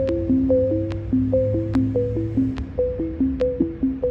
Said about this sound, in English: Fucking love sine waves, Lorenz.